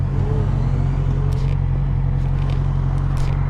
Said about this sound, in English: So now let's get up to the fun stuff and floor this bad boy.